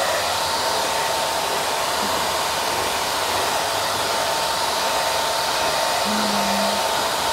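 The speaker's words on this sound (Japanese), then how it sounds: "上からね、こうやって風を真下に落とすようにこうやって乾かしてください。" A salon hair dryer blowing air straight down onto a client's hair, a loud steady whooshing roar running unbroken through the whole stretch.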